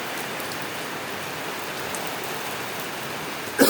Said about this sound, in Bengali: দেখো বন্ধুরা, দেখো বৃষ্টি বৃষ্টি, এই দেখো, দেখো বৃষ্টি।